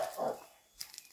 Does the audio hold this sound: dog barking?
yes